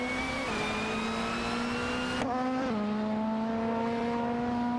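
Race cars in a racing video game, a Peugeot 407 and an Alfa Romeo 156 GTA, hold a steady high-revving engine whine with clean harmonic tones that dip briefly at gear changes, loud and continuous throughout.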